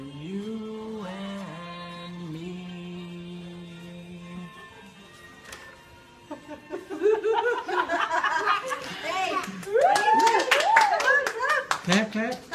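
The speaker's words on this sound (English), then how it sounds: "Clap, clap. Clap your hands" A nurse sings a Disney song to a young leukemia patient, then hands clap along in a loose, uneven rhythm, mixed with laughter and a voice over the second half.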